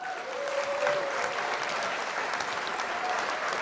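A live audience claps steadily and densely for a few seconds, a continuous roar of many hands without pauses, with a faint voice or tone briefly audible in the background.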